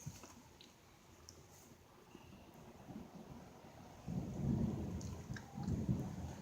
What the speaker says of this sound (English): it's thundering out